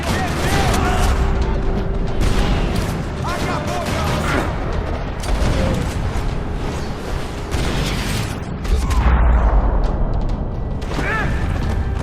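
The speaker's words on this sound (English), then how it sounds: "Another parking lot rattling with gunfire." Gunfire crackles through a parking lot shootout in the video game Max Payne 3, with dense mechanical clatter and bursts running continuously at close range, mixed with game noise and some voices.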